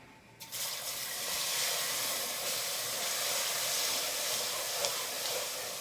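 Onions hitting a hot pot for shrimp and sausage gumbo, bursting into a steady, loud sizzling hiss after a brief quiet start, sustained without talk.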